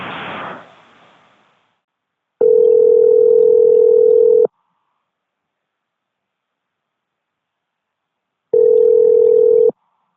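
Telephone tone on an international call to Eastern Europe: two steady, loud tone bursts of about two and one seconds, separated by silence, following a brief fading noise at the start.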